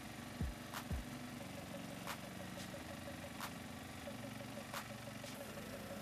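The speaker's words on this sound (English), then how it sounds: "After the engine is running, you want to turn the fuel valve off. Make sure all the fuel burns up inside." A small gasoline pressure washer engine idles steadily at moderate distance, its fuel valve shut so it runs on until the remaining fuel burns up, with a low even drone and a few sharp clicks and knocks over it.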